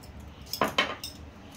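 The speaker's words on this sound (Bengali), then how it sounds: "নুন আর হলুদ দিয়ে কাঁকড়াগুলোকে মাখতে হবে।" Crabs are mixed with turmeric and salt in a bowl, giving two quick metallic clinks close by and a fainter knock after them. The clinks sit against quiet background hiss.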